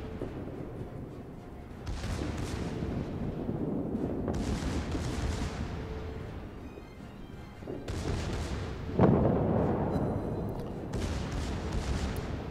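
Secondary guns of the battleship Bayern fire in World of Warships as dense, booming broadband salvos that roll on for the whole stretch, swelling and easing, with a sharper crack near the end.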